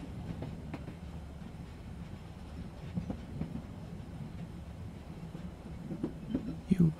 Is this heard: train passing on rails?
yes